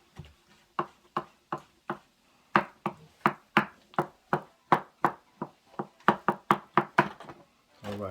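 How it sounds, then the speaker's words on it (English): A knife chops through canned tomatoes on a cutting board, about two dozen sharp, evenly paced knocks up close with a brief pause partway through, then a quicker run of cuts toward the end. "So we're gonna rough cut these tomatoes up."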